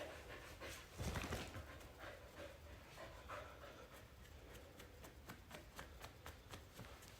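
A dog pants rapidly and steadily close by, the breathy rhythm running throughout with a brief louder rustle near the start and no talk.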